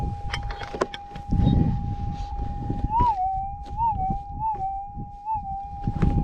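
A gold-prospecting metal detector with a 14-inch coil gives a steady high tone that warbles and rises several times as the coil sweeps over a buried target, over faint outdoor rustling.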